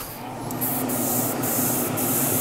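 Airbrush spraying paint in a hobby workshop for a Model Factory Hiro Alfa Romeo Tipo 33/2 kit, with a steady close hiss. An extractor fan hums underneath and there are short bright pulses at the top.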